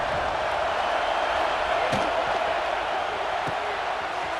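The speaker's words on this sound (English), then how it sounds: "This crowd ready to make its presence known." Stadium crowd noise from the College Football 26 video game forms a continuous broadband roar. It holds steady at a moderate level, with a couple of faint sharp knocks.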